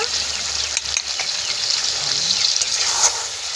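Village-style chicken curry sizzles and spits steadily in a hot pan, a close, dense frying hiss with occasional scrapes of stirring, no voices.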